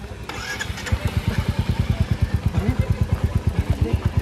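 A motorcycle engine catches and settles into a steady, rapid thumping idle, loud and close, outdoors on a university campus in Dehradun.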